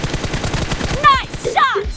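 Rapid bursts of automatic gunfire crackle in a PUBG team deathmatch, a dense run of close shots followed by sharper game effect sounds near the end.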